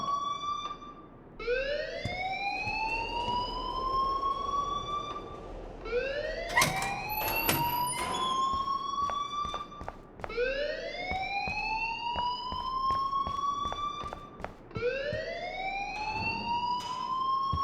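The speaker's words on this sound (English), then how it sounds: "please turn off that alarm since that's your job" A school alarm blares in the video game Life is Strange: a rising, whooping siren tone repeats in long sweeps every few seconds, loud and continuous, with scattered clatter underneath.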